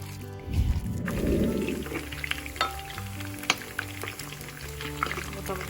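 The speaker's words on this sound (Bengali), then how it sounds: "মোটামুটি সবগুলোই ভাজা হয়ে যাচ্ছে" Shrimp kofta balls frying in hot oil for a shrimp kofta malai curry, a close, loud burst of sizzling that settles into quieter crackling with a few clinks of a utensil.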